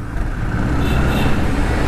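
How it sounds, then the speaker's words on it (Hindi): Porsche sports car engine, heard as a steady loud broadband roar with road-like rumble throughout, no clear rev peaks standing out. "गाड़ी की आवाज़ सुनिए ज़रा"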